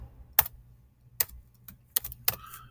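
Keys struck on a computer keyboard while entering a function into the Desmos calculator: four distinct clicks at irregular intervals, close and fairly crisp, against a quiet background with no talking.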